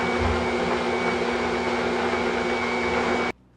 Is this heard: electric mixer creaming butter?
yes